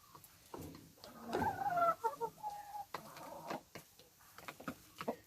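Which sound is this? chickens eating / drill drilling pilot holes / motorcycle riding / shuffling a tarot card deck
chickens eating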